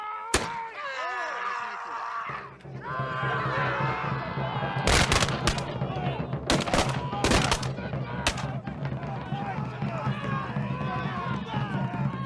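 Gunfire at a re-enactment of a 1643 siege battle, with several sharp loud cracks spread across an outdoor crowd scene, under running footsteps, commotion and background voices.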